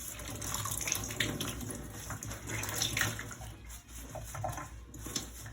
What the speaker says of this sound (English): all I'm going to do is submerge this 1 yard of muslin in here